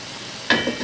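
Gizzards and chicken feet fry in a pot, a brief hiss and crackle of sizzling that bursts up suddenly as the pot is opened or stirred, loud and close, with no talking.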